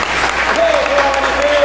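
Church congregation clapping during a revival conference service, a continuous wash of applause with a sustained musical tone running underneath.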